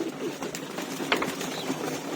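Soft cooing from pigeons in a loft sits under steady background noise, with a few faint clicking, ratchet-like sounds scattered through it.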